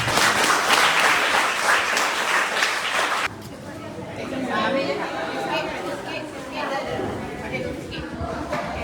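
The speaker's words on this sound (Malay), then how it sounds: "So tepuk tangan sikit." Applause from an audience at a virtual school health programme after a cooking demonstration, loud clapping for about three seconds that then drops off, leaving room noise and chatter.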